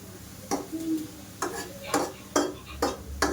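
Stuffed brinjal curry being stirred in oil in a pan, with a spoon scraping the pan in about six short strokes over a steady low sizzle, close by.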